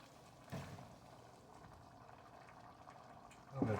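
A gravy sauce thickened with whipped cream boils in a pan while cooking, giving a faint, steady bubbling simmer with a couple of louder clinks or stirs near the start and end.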